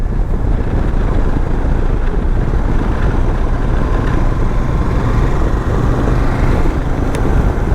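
A Royal Enfield Super Meteor 650 motorcycle with a 650 cc engine cruises along the road: a steady, smooth engine drone heavily masked by constant roaring wind noise on the microphone, with no talking.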